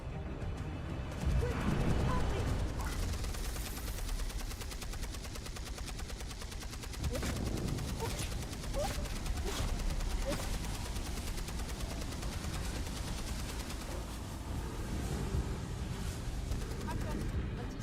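Sustained rapid turret gunfire in Beyond: Two Souls, with dense machine-gun bursts and crashing impacts running throughout under a talking voice.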